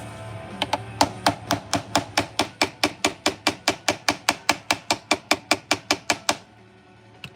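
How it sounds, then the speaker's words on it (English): Steady hammer taps drive frets into a guitar neck during a repair, about two dozen sharp, evenly spaced strikes in a quick rhythm, close and fairly loud, then stopping abruptly. "I'm hammering them in"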